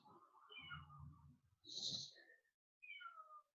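A cat meows and cries outdoors in several drawn-out calls, with short pauses between them, heard fairly close and alone.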